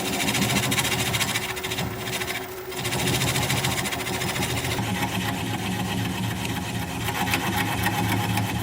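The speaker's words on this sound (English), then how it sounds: "Now I'm applying the bevel of the gouge against the bottom of the bowl" Wood turning on a lathe, with a 3/8 inch swept back bowl gouge cutting inside the bottom of a bowl. It sounds like a steady, loud, continuous whirring scrape with a brief dip in the middle, and no voices.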